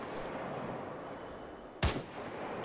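A single sharp, loud gunshot rings out in ARMA 3, a sudden close crack with a short rumbling tail, standing out against a steady low ambient hiss.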